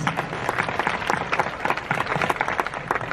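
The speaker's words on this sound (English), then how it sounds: "How about a round of applause for our young volunteers?" A crowd at Magic Kingdom on the 4th of July claps for young volunteers, lively uneven clapping from many hands throughout the short stretch.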